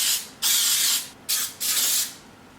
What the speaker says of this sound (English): So we are just going to spray our muffin tin with the baking spray.